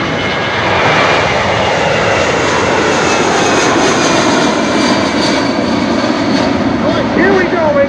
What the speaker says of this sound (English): watch this now as they pull back on the stick and launch into the sky